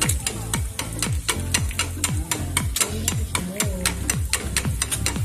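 An egg frying in a pan for a kanto-style tapsilog breakfast, with a steady close sizzle broken by regular sharp ticks and scrapes of a utensil working in the pan.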